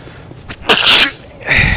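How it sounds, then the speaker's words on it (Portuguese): A person sneezes once loudly and close up outdoors at a rural settlement, a sharp burst after a short intake of breath, followed by a fainter exhale, with no talking. "o nego espirra no meio da gravação"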